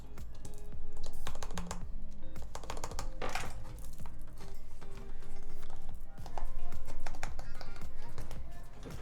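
Close, steady clacking of keystrokes on a Seulgi TKL mechanical keyboard fitted with Tealios V2 switches, a dense run of quick taps with occasional louder presses and brief pauses between bursts.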